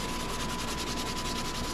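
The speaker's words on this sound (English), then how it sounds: "if I keep on block sanding it, that spot will slowly disappear." Steady, continuous rasping of a sanding block rubbed back and forth over a Falstaff beer sign under repair, close up, with no talking.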